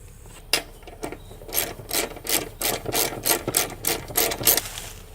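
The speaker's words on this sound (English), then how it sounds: "I need to unloosen that bolt there, and that holds the deck on to the mower" Ratchet wrench loosening the bolt that holds the deck on a zero turn mower: a close series of around a dozen quick rasping clicks, at first irregular and then speeding into a steady rhythm.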